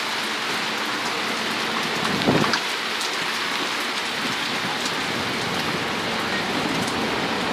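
Steady rain falls during an approaching summer storm in Mesa, Arizona, with a dense, even hiss of drops on surfaces throughout and a brief louder swell partway through. No voices are heard.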